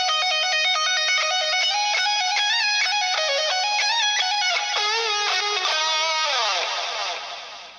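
Electric guitar lead lick played slowly and clearly, distinct sustained single notes with bends and slides climbing higher, ending in a sliding note that fades out, with no voices.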